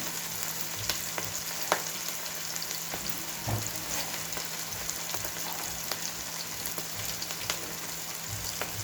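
Bottle gourd pieces frying in a pan with green chilli for a garlic-chilli dish, a steady soft sizzle throughout with a few faint clicks and taps, no voices.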